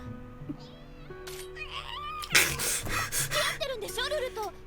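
A cat meows during an anime episode, with a few short cries and a gasping voice set among music and other show sounds, and the clip plays at moderate loudness.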